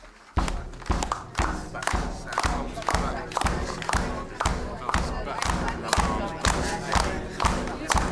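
A quick, steady drum beat of evenly spaced, punchy hits, kept as a classroom of students reads a poem aloud, with voices and clapping running underneath throughout.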